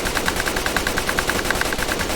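Rapid semi-automatic fire from a PP-91 Kedr submachine gun in Fallout 4, a steady stream of evenly spaced sharp shots, roughly ten per second, loud and continuous with no talk.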